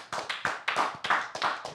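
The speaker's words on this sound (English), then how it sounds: "Let's give them a round of applause." A small group of people clapping in a podcast studio in Toronto, giving a short round of applause with uneven, bunched hand claps that come in quick bursts, close and fairly loud.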